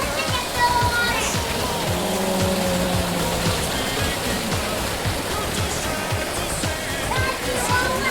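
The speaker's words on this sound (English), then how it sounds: "there's a waterfall and we're on the inside" Indoor waterfall inside a mall, a steady close rush of falling water filling the space, with voices and faint background activity underneath.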